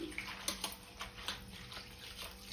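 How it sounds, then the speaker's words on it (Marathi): Ambadi greens being rinsed in water in a home kitchen, with quiet splashing and a few soft sloshing taps, faint and close with no talking. "स्वच्छ धुवून घेते मस्त पाणी टाकून"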